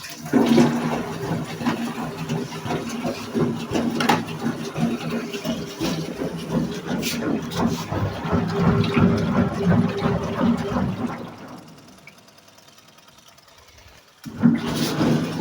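A new Brandt washing machine on its first run fills with water, a steady close rushing and gurgling of inflow that drops away briefly near the end before the flow resumes.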